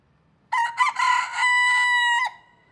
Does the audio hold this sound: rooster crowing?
yes